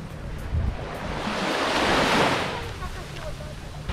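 Calm sea waves at Megas Gialos beach on Syros, Greece, wash in a slow swell that rises and fades, with steady wind buffeting the microphone and no talk.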